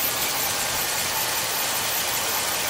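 A 2004 GMC Silverado extended cab pickup with a Vortec V8 engine idles steadily, giving a continuous, even, smooth engine rumble heard up close with no talking.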